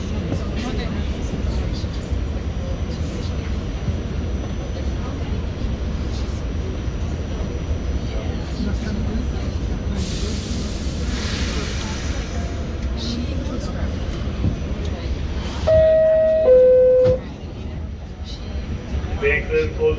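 An R46 subway car on the W line at 34th Street–Herald Square carries a steady low rumble, then a loud hiss and a two-tone door chime sound as the doors close, with announcements spoken over it.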